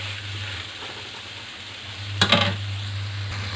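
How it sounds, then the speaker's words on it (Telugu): Bitter gourd curry cooking in an open pan, with a soft, steady sizzle and a steady low hum underneath, broken by one brief louder scrape of stirring partway through. "మూత పెట్టకుండా ఈ విధంగా కలుపుకోవాలి"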